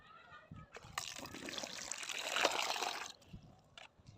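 A small amount of water being poured to rinse something in a home kitchen: a steady splashing trickle that builds for about two seconds and then stops, near and moderately loud, with brief handling clatter before and after.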